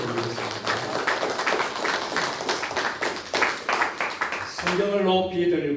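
Congregation applause during a Korean Sunday church service, a crisp rhythmic clapping from many hands that runs for several seconds before a voice begins speaking at the end.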